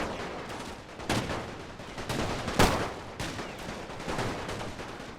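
Rifle fire in a Total War battle set in the Great War, a dense rolling fusillade of overlapping shots, with a few louder close cracks standing out from the distant continuous volleys.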